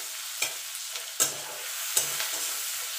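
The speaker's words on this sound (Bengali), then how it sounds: "এবার জিরেটা একটুখানি ভাজা ভাজা করে নেব।" Black cumin seeds fry in hot oil in a pan while a spoon stirs them, giving a steady close sizzle broken by three sharp scraping strokes at even intervals.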